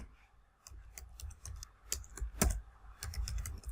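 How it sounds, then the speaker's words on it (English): Typing on a computer keyboard, irregular bursts of quick close key clicks with brief pauses between flurries, no voices. "I will type in this title"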